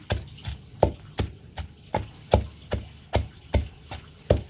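Onions are pounded for gongura pachadi in a steady rhythm of about a dozen heavy, dull thuds, close and evenly spaced, with no talk.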